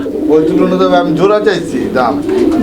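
Fancy pigeons at a breeding farm coo in low, rolling murmurs that overlap with people talking close by, the sound continuous and fairly loud throughout.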